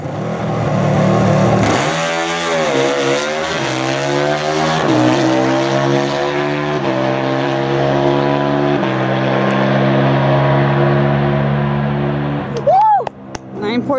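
A Harley-Davidson V-Rod Destroyer launches hard down a 402-meter drag strip, its engine roaring and climbing in pitch through several gear shifts, loud and then slowly receding into the distance.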